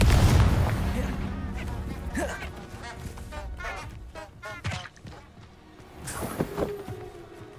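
Confringo blasting spell explosions in Hogwarts Legacy, a loud boom opening the clip followed by further rumbling blasts and impacts, with a voice speaking over the action throughout.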